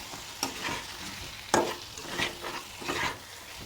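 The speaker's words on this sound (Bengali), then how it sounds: "এবার আমি ওই ভাজা ওল আর আলুটা এর মধ্যে দিয়ে আরও বেশ কিছুক্ষণ কষিয়ে নেব।" Fried elephant foot yam and potato are stirred through spice paste in a hot pan, giving a low sizzle broken by several sharp scraping strokes of the spoon at an uneven rhythm, close up, with no talk.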